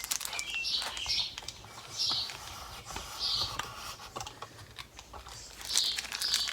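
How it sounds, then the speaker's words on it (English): Birds chirp outdoors near a motorcycle workshop building a Norton Commando chopper, with repeated high tweets and calls at intervals, moderately distant, over crinkling and tapping handling noises. "You can hear the birds everywhere."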